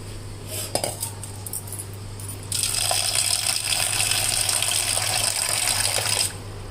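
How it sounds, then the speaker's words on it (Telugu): Water is poured into a pot of boiled pigeon pea seeds: a few metal clinks, then a loud, steady gush for about four seconds that stops abruptly, close up with no voices. "కాస్త వాటర్ పోసి"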